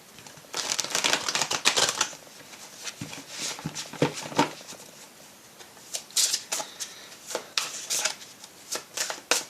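An oracle card deck of energy mandalas being shuffled by hand gives a continuous close papery riffle with flicking bursts and soft slaps, with no speech.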